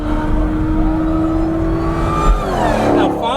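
Race cars on a race track passing by, a steady engine whir and drone with a rising whine toward the end as a car sweeps past nearby.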